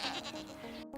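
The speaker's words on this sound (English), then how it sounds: "Goats are already weird enough with the screaming" A goat's bleating scream, loud and close, with a few wavering pulses that end in a brief gap of silence.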